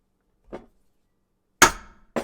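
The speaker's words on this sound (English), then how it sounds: "poke some pilot holes so that I can drill holes for the 1/8-inch rivets" Sharp metallic taps on sheet metal as pilot holes are punched for rivets in a small backpacking wood stove: one light knock, a pause, then a louder ringing strike followed quickly by another, close and isolated in a quiet room.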